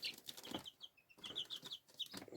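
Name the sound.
small red hen chick clucking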